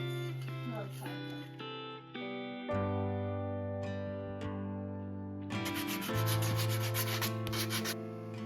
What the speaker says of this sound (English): After that dried, I sanded it smooth